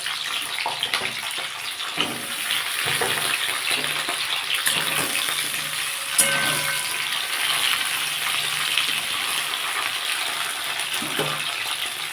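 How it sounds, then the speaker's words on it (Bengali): Okra (bhindi) fries in hot oil for a potato-and-bori curry. A steady, watery sizzle runs close throughout, broken by occasional soft clicks of the pan and no talk. "তেলটা বন্ধুরা গরম হয়ে গেছে আমি এবার ভেন্ডিগুলো এতে ভেজে নেবো"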